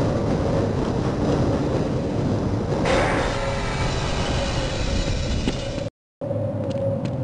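Rumbling ride of a tram-style rail car in the Half-Life intro sequence, a steady loud mechanical rumble with a rising whine partway through and a brief dropout near the end.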